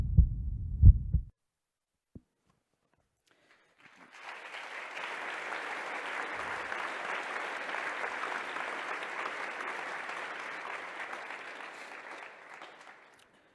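A conference audience breaks into steady, sustained applause that fills the room for about nine seconds and then fades out, after a few close low thumps and a silent pause.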